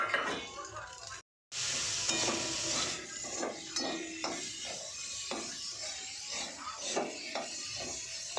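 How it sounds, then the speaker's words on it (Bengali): Spice paste being stirred and fried in a pan while cooking crab, a steady sizzle under repeated scraping and clinking of a spatula against the pan, close, with a brief dropout near the start and no talking. "এই মশলাটা ভালো করে কষিয়ে নেব"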